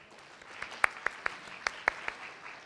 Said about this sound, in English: Can you give me a little bit of applause?